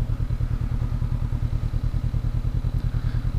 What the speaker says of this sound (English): look at those on point downshifts